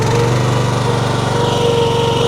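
A Honda iGX390 engine on a Wolfe Ridge 17VS runs loud and close with a steady, even drone throughout, with no one talking.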